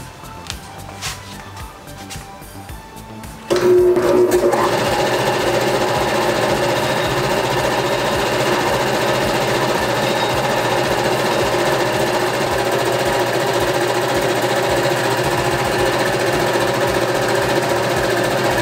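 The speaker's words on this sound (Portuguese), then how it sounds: "eu vou ligar agora o compressor" Workshop air compressor switched on partway through, jumping from quiet clicks and handling into a loud, steady, close mechanical drone with a rapid pulsing rattle that runs unbroken to the end.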